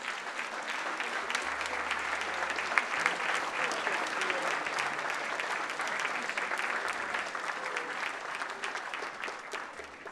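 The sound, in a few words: audience applause for Sister Rita Marley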